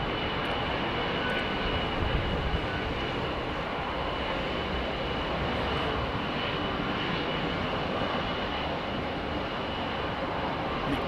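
A Boeing 777 airliner at London Heathrow Airport gives a steady, loud engine roar that holds evenly throughout, with no talk over it.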